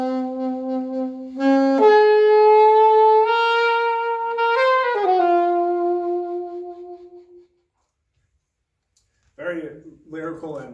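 Alto saxophone in a big band era style, a short lyrical phrase of sustained, gliding held notes, close and clear, followed by a silent gap and a brief burst of talking.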